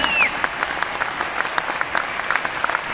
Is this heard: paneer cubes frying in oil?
no